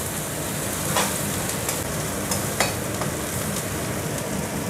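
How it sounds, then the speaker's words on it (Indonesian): Spices stir-frying in a pan for a spicy Javanese shrimp dish, a steady broadband sizzle with faint scraping strokes of a spatula at irregular intervals, close and continuous with no talking. "Nah, tumis sampai harum ya."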